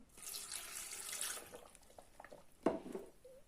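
A stream of water gushes briefly, then trickles and splashes into a container, ending with a few small drips, close and fairly quiet.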